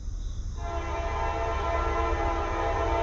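A CSX or Norfolk Southern freight train passes on the former Conrail Lehigh Line on a Labor Day morning: a loud horn blast opens, then a sustained, close, heavy rumble of rolling cars fills the rest.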